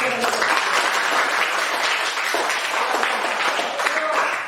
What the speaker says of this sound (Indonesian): Berikan tepuk tangan kepada yang kelompok 3